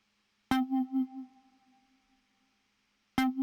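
Synth ear-candy atmosphere patch played in the Spire synthesizer with no effects plugins: a sudden bright chord that pulses briefly, then rings out and fades to silence over about two seconds before a second stab enters at the end.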